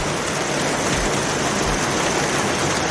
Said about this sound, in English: This is how heavy the rain is.